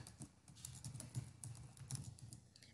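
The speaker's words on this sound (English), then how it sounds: "You'll type in your last name." Quick bursts of close keystrokes on a computer keyboard while a name is entered into a Google account signup form, uneven clusters of soft clicks with short pauses between them.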